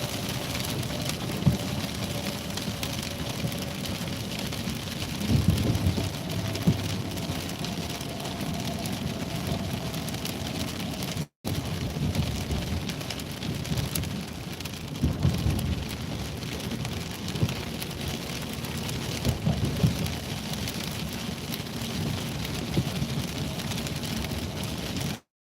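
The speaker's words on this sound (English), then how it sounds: "Just rain for right now." Rain falls steadily during a storm in Minnesota, a constant hiss of drops on surfaces with a few louder patters and no voices.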